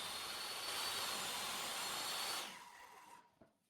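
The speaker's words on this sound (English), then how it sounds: "Next, I cut the center line using a table saw." A table saw blade whines loudly and steadily as it cuts through an engineered hardwood flooring plank, then the motor spins down and fades over the final second.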